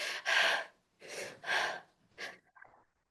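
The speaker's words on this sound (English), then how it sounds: "we're often breathing like this." Shallow breathing from the top of the lungs, shown as a demonstration: four quick, loud, close inhale-exhale bursts in an uneven rhythm, then a softer final breath, with no talk.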